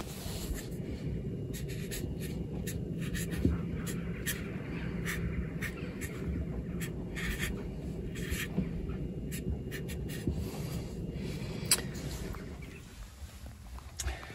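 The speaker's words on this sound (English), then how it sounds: "I'm just going to write which direction those chargers are going." A pen scratches out short, irregular strokes while labelling Victron Orion battery chargers, close and fairly quiet over a steady low hum, with the scribbling stopping near the end.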